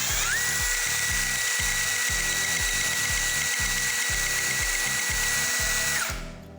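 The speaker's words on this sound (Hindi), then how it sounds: "अगर नहीं फंस रहा तो पहले थोड़ा सा ड्रिल से करेंगे" A power drill runs steadily and close up for about six seconds while boring into a stripped screw head, with a rhythmic ratcheting chatter underneath, then winds down at the end.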